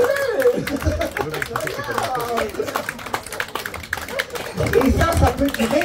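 Audience clapping at a hypnosis show, scattered hand claps and rustle beneath someone speaking French close to the microphone, the applause swelling slightly toward the end.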